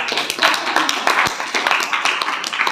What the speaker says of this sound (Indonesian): Tepuk tangan untuk ketua kelas.